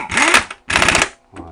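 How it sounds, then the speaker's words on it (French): Two loud bursts of a rattling, whirring impact wrench tightening engine mount bolts on a car, separated by a short pause, followed by a brief quieter buzz. "Bon coup de clé à choc."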